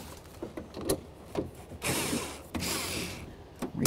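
A socket ratchet turns a bolt loose on a 1999-2007 Chevy Silverado front window regulator inside the door, giving short bursts of clicking pawl strokes with brief pauses, close and fairly loud with no talk.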